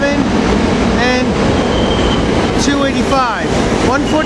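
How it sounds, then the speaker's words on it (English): A commuter train on the 30th Street run rolls past at rush hour near Temple University, a loud continuous rumble with squealing wheels and metallic screeches, close by, with voices faintly underneath. "This is, I think, the 30th Street train"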